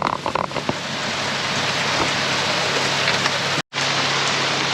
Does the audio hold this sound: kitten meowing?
no